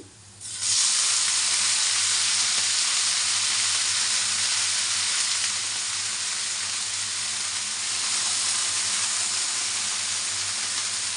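Fenugreek leaves sizzle on a hot tava, starting with a sudden, loud hiss that holds as a dense, continuous sizzle close up with no voices.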